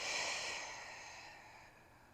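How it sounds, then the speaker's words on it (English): A single slow, airy exhalation during a calming yoga session for sleep, close and soft, fading out over about two seconds with no talking. "let's take a deep breath in together and a deep breath out."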